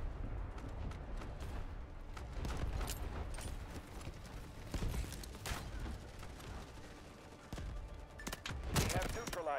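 Artillery and gunfire boom and crackle in the video game Delta Force, with dense bursts of shots, rumbling blasts and sharp impacts that build near the end, mixed with voices and battle noise.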